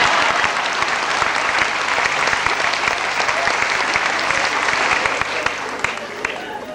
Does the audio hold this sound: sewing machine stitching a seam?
no